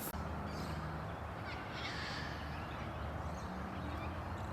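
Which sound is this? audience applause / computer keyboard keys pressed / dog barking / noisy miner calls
noisy miner calls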